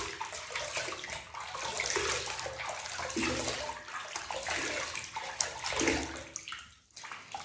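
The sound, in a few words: face being splashed with lukewarm water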